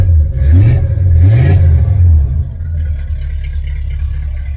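A 1977 Chevrolet Malibu engine revs loudly through headers, an X-pipe race dual exhaust and single-chamber mufflers, with two rising throttle blips close by before it settles back into a steady, rumbling idle.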